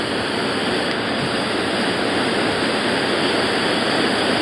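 A waterfall in Alaska where salmon leap upstream between pools gives a loud, continuous broadband roar with no breaks or voices.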